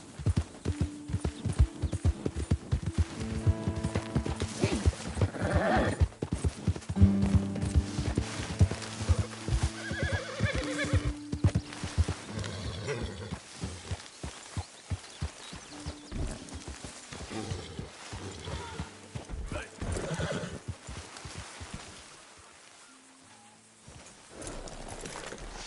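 A horse gallops with rapid, rhythmic hoofbeats and whinnies loudly in the Western video game Red Dead Redemption 2, the clopping running steadily before easing off near the end, with no talking.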